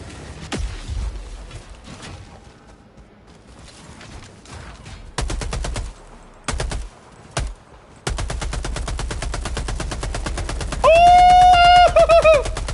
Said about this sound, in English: Did you see how long I held that trigger down, by the way?